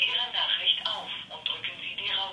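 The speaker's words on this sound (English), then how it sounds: "it actually dials out and rings on my second telephone here" A second telephone rings after being dialed from an IBM PalmTop PC 110, giving a loud, steady electronic trill that pulses continuously from nearby.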